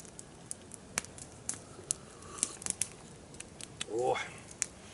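A campfire burns in a cold winter forest, giving scattered sharp crackles and pops over a soft hiss, with a brief voice partway through.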